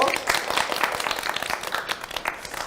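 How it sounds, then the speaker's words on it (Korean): A studio audience claps at a Korean business pitch show, a dense burst of quick, overlapping applause sustained close and loud throughout. "박수 한번 주세요"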